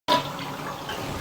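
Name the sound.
toilet flushing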